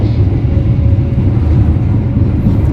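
A vintage train hauled by a CC 203 locomotive rolls into Wates station with a loud, steady low rumble and rattle, heard up close from on board with no other sounds on top.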